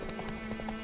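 Hooves of Roach, Geralt's horse in The Witcher 3, clip-clop in a quick galloping rhythm over a steady low game hum, brief and alone without talk.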